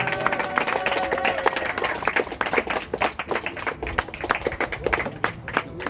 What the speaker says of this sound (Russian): Алло, хлопаем!